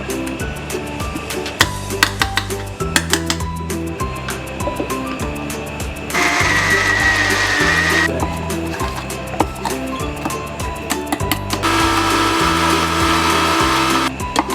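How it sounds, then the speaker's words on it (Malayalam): A blender whirs in two loud bursts as roasted peanuts are ground into peanut butter paste, with rhythmic background music playing between and under the runs. "നമുക്ക് ഇതിന് ഒന്നും കൂടി അടിച്ച് പേസ്റ്റ് പോലെ ആക്കാം"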